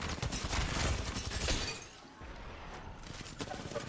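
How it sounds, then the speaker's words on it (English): Kraber sniper rifle in Apex Legends firing in sharp, loud cracks amid dense game combat noise, with a brief lull near the middle before the clatter picks up again. "I was just trying to hit a no-scope Kraber shot at the end there, but none of them hit."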